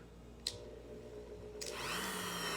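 A Dremel 3000 rotary tool fitted with a small sanding disc spins up after a brief click, its high-pitched motor whine rising and holding steady near the end.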